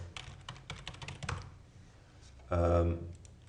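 Typing on a computer keyboard gives a quick run of light key clicks, followed after a short pause by a brief, louder burst of a voice speaking.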